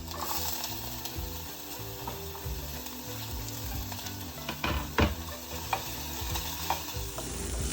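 Chopped onions and green chili fry in ghee in a kadai, a steady sizzle broken by repeated scraping and stirring strokes, with a few sharper clanks of the utensil against the pan.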